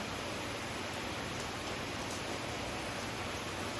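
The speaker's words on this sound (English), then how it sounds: "It's raining pretty heavily at the moment." Steady heavy rain hisses continuously outside, a dense, even wash of falling water with no breaks and no voices.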